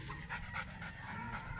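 A muzzled Labrador pants steadily in quick, close breaths, with no one talking.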